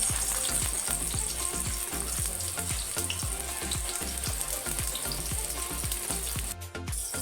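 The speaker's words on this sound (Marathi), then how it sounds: "तर कांदा असा परतून घ्यायचा आहे व्यवस्थित" Chopped onion frying in hot oil for a chicken curry, a loud continuous sizzle close up, with regular rhythmic scraping of a spatula stirring through it.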